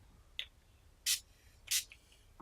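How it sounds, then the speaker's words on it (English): NYX setting spray is misted onto an eyeshadow brush: a faint tap, then two short, crisp hissing bursts about half a second apart, close and quiet. "So right now I'm just going to wet it with some NYX spray."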